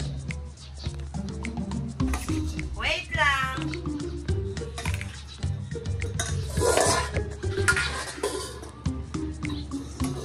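Chicken breast is stirred into dog food and rice in a bowl, giving wet squishing and clinking mixing sounds, close and intermittent, while people talk throughout.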